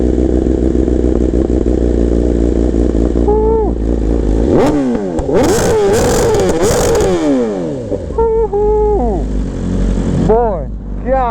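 A motorcycle fitted with an SC Project full exhaust system, loud close engine idling, then sharp revs rising and falling several times in bursts, with people talking in between.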